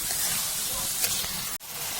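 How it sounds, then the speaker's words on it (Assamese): Whole spices, cloves, cardamom and cinnamon, frying with masala in a pan for fish curry, giving a steady close hiss and sizzle that runs throughout with a brief drop near the end. "ভালদৰে হলদিলম যেতিয়ালৈকে মানে মছলা গোন্ধখিনি ভালকৈ ওলাই নাযায় তেতিয়ালৈকে ভাজিম"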